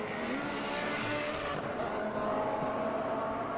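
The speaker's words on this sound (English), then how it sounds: "Here's Devin starting her hot lap" A time attack race car at Circuit of the Americas turns in at turn 1 on a hot lap, its engine a loud, steady close roar with faint tire squeal and no talk.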